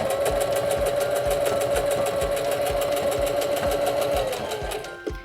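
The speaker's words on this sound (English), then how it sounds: "I'm going to sew up until the toes of my presser foot come up to the thicker part of the seam" A SINGER denim sewing machine stitches thick denim toward a heavier seam with a fast, steady, close mechanical rhythm of needle strokes. It slows and stops near the end with a small click.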